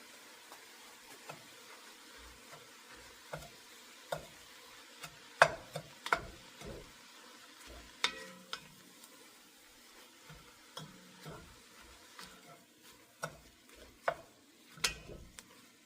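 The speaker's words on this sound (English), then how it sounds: "we're just going to saute this a little bit longer" Freeze-dried onions sautéing in a pot for a cheddar and broccoli soup: a quiet, low sizzle broken by irregular scraping and clinking stirs of a utensil against the pot, close and with no talk.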